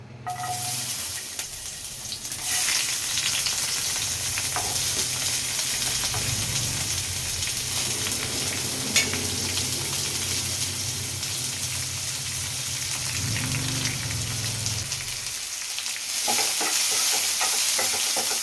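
Onion and chili frying in about three spoons of hot oil for a home-cooked kurma: a continuous loud sizzle with stirring, steady throughout with a brief dip near the end, no talking.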